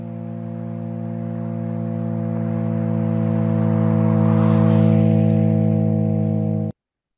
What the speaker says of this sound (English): when the car does not intend to yield, the droning sound stays at a constant pitch as the car goes by, as you can hear now.